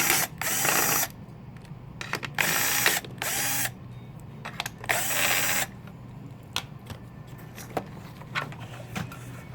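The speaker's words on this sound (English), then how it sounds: "We'll undo the 5 screws in the bottom." Screws being undone with a power driver from the bottom of a magnesium fan housing during a motor replacement: several loud bursts of whirring, each one to two seconds long, separated by clicks and small handling knocks, close up with no talking.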